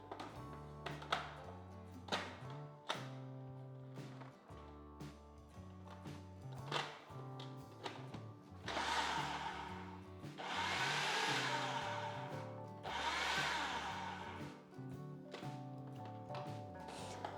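A kitchen mixer grinder pulses about 250 grams of cleaned prawns for chemmeen vada: short whirring bursts with clatter, then longer, louder grinding runs near the end, close and without talk.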